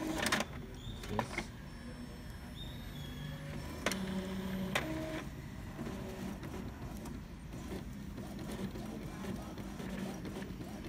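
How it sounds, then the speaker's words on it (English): An Epson L3110 inkjet printer prints a nozzle check pattern, giving a steady mechanical whir with repeated clicks and sharp ticks of the moving print head, heard fairly close for about eleven seconds under a low background hum. "The printer will print the number of checks pattern."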